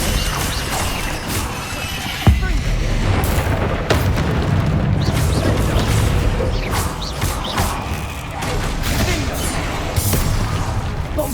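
Bombarda and Confringo spell blasts in Hogwarts Legacy erupt as repeated booms and sharp cracks over a steady roar of combat noise, with a few sudden louder hits spread across the stretch.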